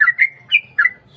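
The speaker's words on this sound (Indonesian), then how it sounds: "suara kicauan burung trucuk sambil ngopi guys" A sooty-headed bulbul (trucuk) sings close by in four quick, clear whistled notes, each a short bright chirp with brief gaps between, loud against a quiet background.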